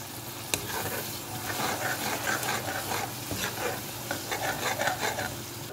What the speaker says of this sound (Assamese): তাৰপিছত লৰাই দিব অলপ, যাতে চাব হেৰি তেলটো যাতে ওপৰলৈ উঠি আহে